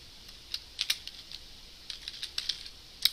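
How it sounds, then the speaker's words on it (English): Keys tapped on a computer keyboard while entering a web address, a light, irregular clatter of separate keystrokes in short bursts, fairly quiet and close, with no voices. "I'm going to actually type in the URL"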